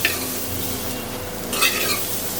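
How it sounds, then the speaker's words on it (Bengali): Ginger pieces frying in a pan with a continuous loud sizzle, punctuated by scraping stir strokes and a brief burst of crackling near the middle. "চার টুকরো আদা ভেজে নেব"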